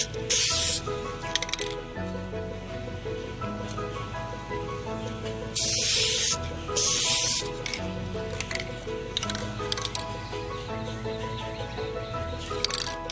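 Several short hissing bursts of Dupli-Color vinyl and fabric aerosol spray paint onto a steering wheel, one near the start and two later, over a steady tonal background hum.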